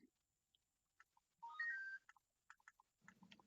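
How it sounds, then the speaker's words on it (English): A short electronic chime of bright rising tones from a phone, a text message tone from Halo, followed by scattered faint clicks and beeps in an otherwise quiet room. "That was a nice ringtone, whatever that was."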